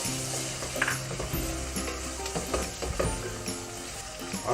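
Tomato dropped into keema sizzling in a pan, with steady frying crackle and a few stirring scrapes throughout, no voices.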